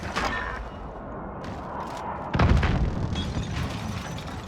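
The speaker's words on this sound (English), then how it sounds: "Airstrike." An airstrike detonates in a shooter video game, with a heavy, deep boom about midway that rolls out over continuous gunfire and battle noise.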